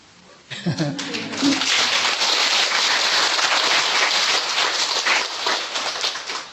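A gathering audience at a spiritual talk bursts into steady, dense applause that starts abruptly and holds at an even, fairly loud level throughout, with faint voices mixed underneath.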